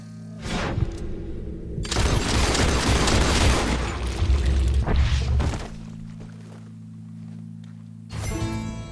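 Heavy gunshots and booming impacts ring out in Red Dead Redemption 2: a sharp report, then a long loud stretch of crashing blasts, quiet, and another sudden burst at the end.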